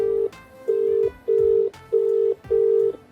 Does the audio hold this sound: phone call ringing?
yes